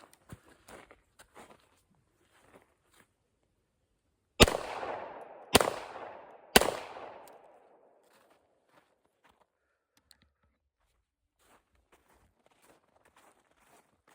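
Three loud, sharp gunshots from a Stribog SP9A3S 9mm carbine, spaced about a second apart, each with a short echoing tail, followed by quiet with faint handling clicks.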